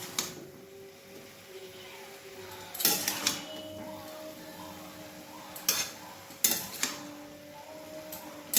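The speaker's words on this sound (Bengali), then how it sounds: "এবার সমস্ত কিছুটাকে ভালো করে মিশিয়ে নেব। যাতে যে গুঁড়ো মশলাগুলো দিলাম সেটা সমস্ত জায়গায় শাকটার মধ্যে ভালোভাবে মেশে।" Pumpkin greens tossed with ground spices in a pan, the stirring heard as a few sharp clinks and scrapes of a utensil against metal over a quiet low kitchen hum.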